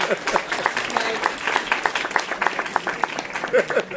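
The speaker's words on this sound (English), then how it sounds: "Another round of applause for Anthony." Dense audience applause for a storyteller at a Rabbit Box storytelling night, steady crowded clapping that carries through all four seconds at close, even loudness.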